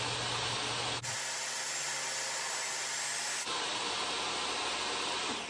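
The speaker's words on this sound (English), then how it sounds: "Rip down the boards, removing the rounded edge off of one side." Table saw ripping pallet boards, with a loud steady whining roar from the saw, a deeper cutting load through the middle section as a board is fed, then the saw running free again.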